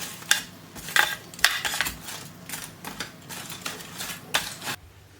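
Crispy oven-dried canned potatoes being handled, a run of sharp clattering clicks and scrapes at close range, irregular taps spaced about half a second apart, ending abruptly.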